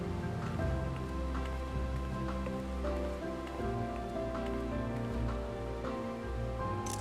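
Rain falls steadily in the video game Final Fantasy XIV, a continuous soft patter spread evenly across the whole stretch beneath sustained tonal game music, with no voices.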